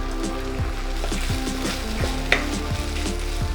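Ginger garlic paste frying in a kadhai over browned onions for kadhai paneer: a steady, loud, close sizzle with rhythmic scraping stirs repeating throughout.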